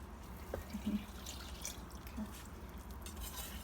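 Water is added to a whisked dry mixture for homemade play dough, alongside oil, giving faint, close drips and small liquid splashes over quiet background, with no talking.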